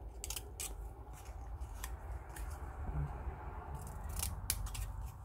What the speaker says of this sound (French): Maintenant, je vais couper légèrement en biais quand même, hein,